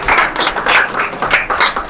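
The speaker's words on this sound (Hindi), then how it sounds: "इनकी आपकी भरपूर तालियों में मुकम्मल हौसला अफजाई होनी चाहिए" Loud, sustained audience applause as four people are called up onto a stage, with dense overlapping claps swelling in waves throughout.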